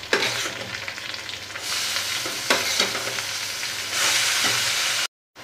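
Chopped taro stalks sizzle loudly in a hot pan with fried fish head, steady frying hiss broken by periodic stirring scrapes, with no voices.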